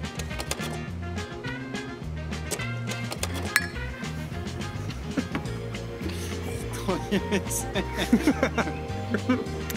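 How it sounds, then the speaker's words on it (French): Glasses clink together in a toast among a group of people, several bright chiming taps scattered over steady background noise while people chat. "Ouais, très bien ce trinquage."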